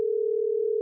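One brief, steady electronic tone from a telephone call, a pure hum that holds evenly for under a second.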